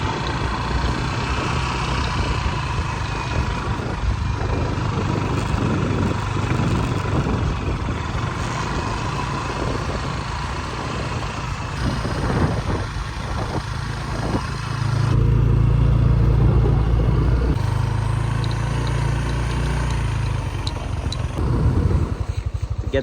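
Motorbike ride through Bali, a steady engine drone with road and wind noise that rises and shifts in pitch partway through, with occasional voices under it.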